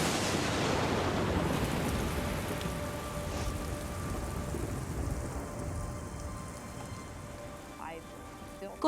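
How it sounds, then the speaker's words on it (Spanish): A violent thunderstorm in the Grand Canyon: heavy rain hisses steadily throughout, loud at first and easing slightly, with a sharp crack near the end. "una tormenta violenta se desata en el cañón"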